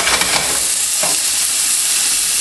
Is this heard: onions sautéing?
yes